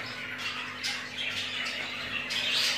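A hand-fed budgerigar chick squawks in a series of harsh, close, repeated calls, loud and alone with no talk.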